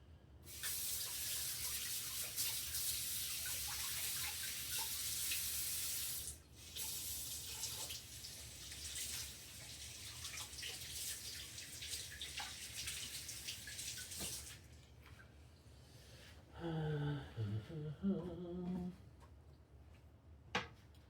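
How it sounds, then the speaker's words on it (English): Hands washed under a running tap, a steady hissing stream of water for about fourteen seconds before it stops, then a voice speaks briefly. "I'm gonna wash my hands now."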